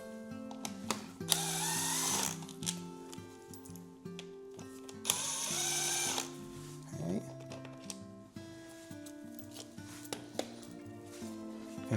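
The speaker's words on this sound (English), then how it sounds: "you can use the gun to undo them all the way" A power tool gun undoes bolts on a Yamaha R1 during a chain and sprocket change, with two bursts of whirring spin about two seconds each, separated by clinks and handling noises of tools and parts nearby.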